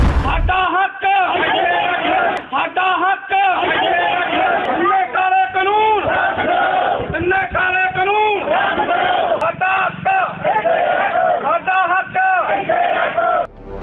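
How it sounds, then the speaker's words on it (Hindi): A crowd of farmers in a Bathinda village in Punjab chanting protest slogans against the farm laws, a leader's call and loud massed responses repeating in rhythmic waves, close and forceful. "बठिंडा के विर्ग गांव में किसानों के समर्थन और कृषि कानून के विरोध में नारेबाजी की गई"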